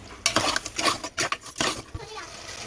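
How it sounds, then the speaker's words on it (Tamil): Meat being mixed with salt by hand in a metal bowl for a beef curry, giving a short run of clinking, scraping and wet stirring sounds, close and moderately loud. "கறி சேர்த்து நல்லா மிக்ஸ் பண்ணி விட்டுருவோம்"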